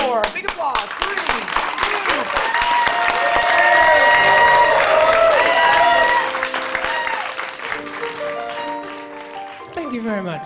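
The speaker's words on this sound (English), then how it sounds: "big applause" A live concert audience at the Regal Cinema claps and cheers loudly, swelling and then fading, while musical tones and sustained notes ring through; the crowd noise picks up again briefly at the end.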